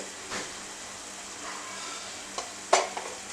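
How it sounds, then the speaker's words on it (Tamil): Onions sautéing in ghee in a pan, giving a soft steady sizzle with a few sharper stirring scrapes and clatters near the end, close and fairly quiet, with no talk. "இப்போ இன்னொரு பேனில் கொஞ்சம் நெய் ஊற்றிக்கலாம். வெங்காயம் வந்து வதங்குது."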